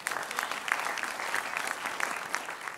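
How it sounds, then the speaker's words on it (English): Dense, sustained applause from an audience clapping together at a speaking event, a fairly even wash of many hands with no voices standing out. "Let's give God a hand clap."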